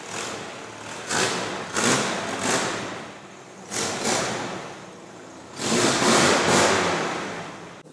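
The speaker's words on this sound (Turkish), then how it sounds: "Evet egzozun sesi her yeri inletiyor." A Tofaş Şahin car engine runs loudly with a raspy exhaust, surging in repeated bursts as if revved, with no talking.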